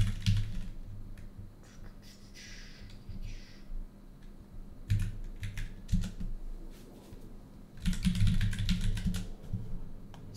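Keys clatter on a computer keyboard as a command like ipconfig is typed into the Windows command prompt, in separate bursts of quick keystrokes with short pauses between them.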